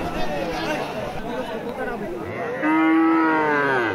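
A cow lets out a loud, drawn-out moo close by at a crowded cattle market, over a background of chatter from many people talking.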